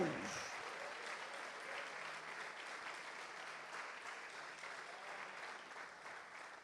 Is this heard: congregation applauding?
yes